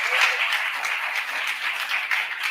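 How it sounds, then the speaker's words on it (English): Audience applause for teachers at a 2022 inauguration ceremony, a sustained wash of many hands clapping at moderate loudness with no letup across the moment. "Let's also give a big round of applause to all the teachers."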